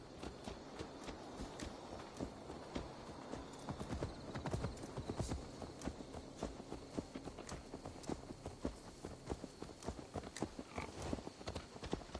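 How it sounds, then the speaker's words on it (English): Steady clip-clop of horse hooves walking on a hard surface in the video game Assassin's Creed Valhalla, close and continuous, with an occasional faint snort. "Let's return the horse."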